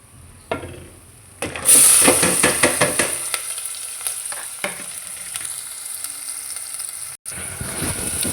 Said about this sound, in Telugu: ఇప్పుడు అదే ఆయిల్లో కట్ చేసిన ఆనియన్స్ వేసుకోవాలి